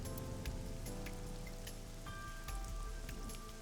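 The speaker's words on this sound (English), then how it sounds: "Right now she's standing in the pouring rain with her umbrella up." Pouring rain in AI: The Somnium Files plays as a soft, steady patter with sustained musical tones above it. No voices are heard.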